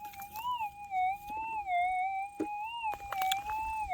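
A steady, warbling electronic tone from a metal detector over a gold nugget in a rock wall, wavering gently in pitch, with faint scraping and clicks in the background.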